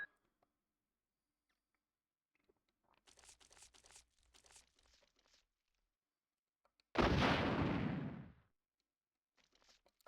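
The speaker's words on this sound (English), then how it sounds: "I wonder if I can just blow up the stuff with the rocket launcher." A single rocket launcher blast in Resident Evil 1 (1996) bursts out loud and rough and fades over about a second and a half, after a quiet stretch of faint rustling movement.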